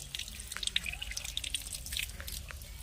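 Water runs and drips from a tap while a snakehead fish head is rinsed in a sink, a light continuous splashing with scattered bright droplet ticks, close by and with no one speaking.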